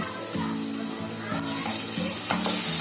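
Tomato hitting a hot pan with oil for a paneer and besan vegetable dish, a loud close sizzle with spatula stirs and scrapes, swelling toward the end, no talking.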